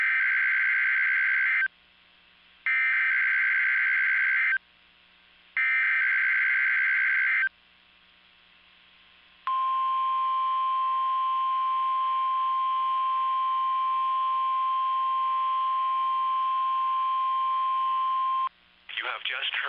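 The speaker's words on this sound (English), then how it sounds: "You have just heard a test of the National Weather Service radio warning alarm feature" A National Weather Service radio warning alarm on a weather radio broadcast sounds three loud beeping bursts followed by a long, steady, piercing tone lasting about nine seconds that cuts off abruptly.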